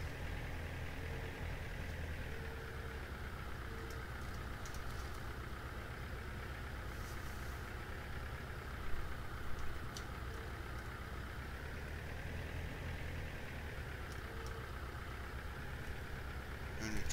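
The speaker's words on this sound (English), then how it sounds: "Tractor's not a bad little tractor actually" A tractor engine idles in Farming Simulator 17, a steady low mechanical drone that holds for the whole stretch with small clicks on top, and a voice is faintly present.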